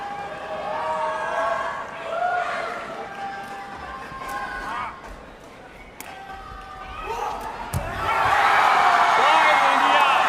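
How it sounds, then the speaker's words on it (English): A crowd at a sepak takraw World Cup match murmurs and whoops under a commentator's voice, then suddenly swells into a loud, sustained roar of cheering near the end. "Listen to the crowd."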